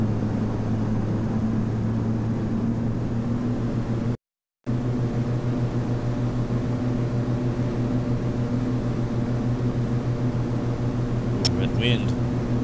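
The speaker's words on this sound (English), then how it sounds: "Slowly bring up the throttle." A single-engine TBM 930 turboprop in the Infinite Flight game produces a steady, droning engine tone with a low hum underneath, briefly cut by a short gap of silence.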